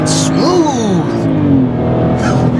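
A 2013 BMW X1 xDrive 35i launches from a standstill, its engine rising steadily in pitch through the revs, heard loudly from inside the cabin with a brief voice near the end.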